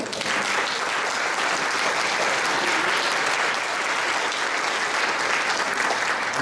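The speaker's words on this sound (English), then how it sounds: "One more round of applause" Steady, full applause from a summit audience fills the room, dense and even throughout with no pauses.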